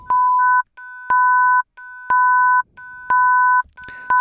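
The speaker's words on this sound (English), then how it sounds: "So that is the sound of a fifth." Two oscillator sine tones at 1 kHz and 1.5 kHz sound together as a perfect fifth, pulsing in repeated half-second bursts with short gaps and clicks, clean and steady with no voices.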